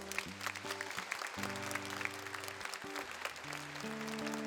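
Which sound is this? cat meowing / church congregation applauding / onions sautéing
church congregation applauding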